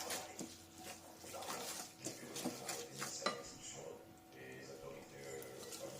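Glass noodle larb ingredients being stirred in a bowl, with soft clinks and scraping of utensil against the dish in an irregular rhythm, close up, while someone talks over it.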